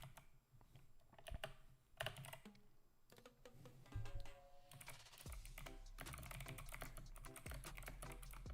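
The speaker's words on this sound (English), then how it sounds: "Don't worry, I am in the process of getting a quieter keyboard." Rapid bursts of clacking keystrokes on a loud computer keyboard, close and crisp, with short pauses between flurries and a dense run of typing toward the end, no voices present.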